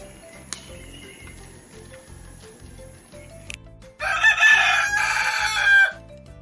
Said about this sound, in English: Hello dear friends, I am a chicken.